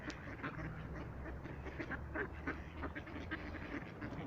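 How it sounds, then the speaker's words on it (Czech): Ducks quack in a busy, continuous chorus, many calls overlapping at moderate distance over a steady low rumble of background noise. "Kačky, viď?"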